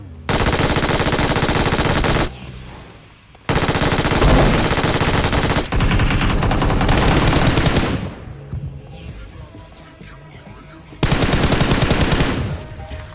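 MG3 machine gun firing in a battle royale video game, long loud bursts of rapid automatic fire with brief gaps and a quieter stretch of game sound between them.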